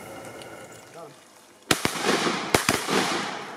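Shotgun blasts on a duck hunt over a small slough: two pairs of loud, sharp reports close together, each with a brief echoing tail, breaking a quiet outdoor background.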